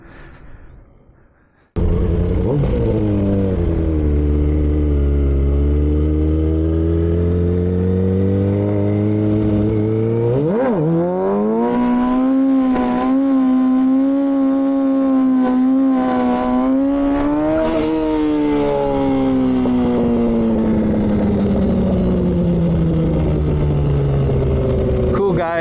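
Motorcycle engine revving hard during wheelies, a sudden loud roar kicking in then climbing and falling in pitch as the throttle opens and eases, close and continuous with wind noise.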